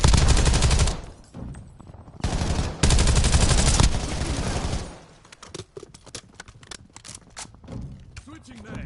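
Automatic gunfire in a Call of Duty match, long sustained bursts of rapid shots, loud and close, broken by short pauses, then quieter scattered in-game noises.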